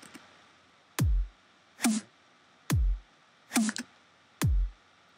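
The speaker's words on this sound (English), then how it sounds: "And that goes over the standard kick and snare pattern" A plain drum pattern alternating kick and snare, five evenly spaced hits, the kicks deep and thumping, the snares brighter and snappier.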